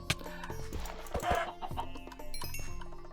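A Minecraft chicken gives a few short clucks amid other game sounds and clicks, a modded farming-world setting, with no talking during the clucks.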